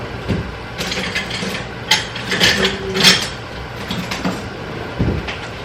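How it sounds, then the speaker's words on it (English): A whisk scrapes and clatters through powdered pectin and sugar in a bowl, giving a close, irregular rustling and ticking with a few louder knocks. "I'm going to whisk it together"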